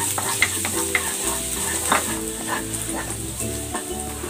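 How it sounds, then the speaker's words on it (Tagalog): Garlic sautés in hot cooking oil for a mung bean dish, a close, lively sizzle broken by scraping stirs of a utensil against the pan, with no talk. "Lalagay ako ng cooking oil. Lalagay ako ng bawang."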